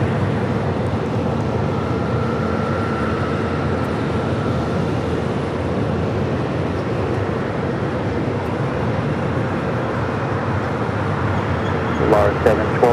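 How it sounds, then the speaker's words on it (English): A JSX jet rolls for takeoff on runway 25 right at LAX, a broad, steady distant roar sustained throughout, with a faint tonal whine near the start and brief clicks near the end. "JSX up next for takeoff 25 at right."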